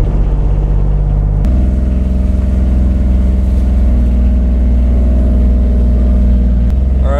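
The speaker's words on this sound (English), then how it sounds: "I'm going to drive this thing around, maybe go up some hills," A Yanmar Brahma diesel UTV 4x4 drives along with a loud, steady engine drone heard close up, its pitch stepping up as it shifts, with a thump or two over the constant rumble.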